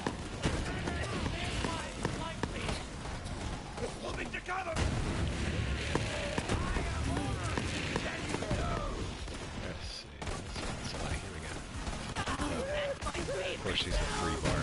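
Borderlands 3 gun firing in gameplay: a dense, continuous barrage of shots and impacts that stays loud throughout, with a brief dip near ten seconds.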